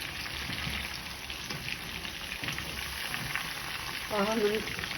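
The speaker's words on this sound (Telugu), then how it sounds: "ఐరన్ కడాయే, తొందరగా అవుతుంది ఐరన్ కడాయిలో వేయించుకుంటే" Prawns frying in a small iron kadai with pepper, a dense, continuous close sizzle and crackle like steady rain, with a brief scrape near the end and no talk.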